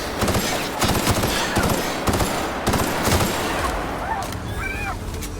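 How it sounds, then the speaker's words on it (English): An energy weapon zaps enemies in the video game The Outer Worlds, a rapid string of loud bursts like automatic fire, followed near the end by short rising electronic chirps. "I am zapping a lot of people into dust"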